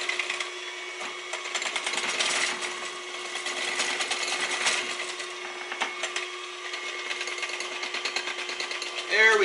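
An electric mixer blends flour into vanilla cupcake batter, a steady buzzing motor hum with rattling clatter from the beaters, continuous and close, running alone without talk.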